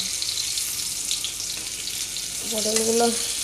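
Pointed gourd (potol) frying in oil in a black wok, a steady close sizzle with a brief low tonal hum near the end.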